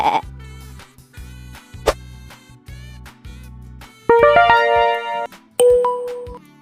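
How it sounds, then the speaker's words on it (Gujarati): A domestic sheep gives several short bleats in a row, close and loud, followed by bright chiming ding-dong tones that ring out at the end. "ચાલો બાળકો હવે આપણે ઘેટાને જોઈએ અને તેનો અવાજ સાંભળીએ"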